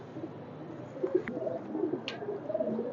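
A green-necked racing pigeon coos softly in a loft, with a few low, rolling coo phrases rising out of a steady background murmur and no talking.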